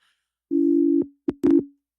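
A telephone busy signal on a call, heard up close and alone: a long steady low tone, a brief pause, then two shorter bursts of the same tone.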